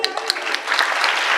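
Audience members clap in a quick, dense burst of applause during a Marathi kirtan performance, close and lively throughout.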